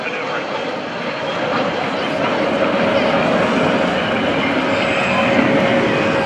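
Jet engine roar from an F-14 Tomcat and an F/A-18 Hornet maneuvering at the NAS Oceana airshow, a steady broad, loud rumble holding through the whole stretch with a faint tonal whine, outdoor crowd ambience underneath.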